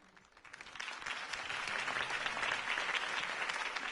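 Applause follows a campaign speech in a Batman video game, a crowd clapping that swells from quiet to a steady, dense roar and holds there.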